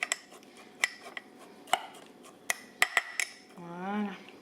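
Oat flakes being mixed with milk in a bowl, a series of sharp spoon clinks against the dish at an irregular pace, quiet and close, followed by a brief soft wavering tone near the end.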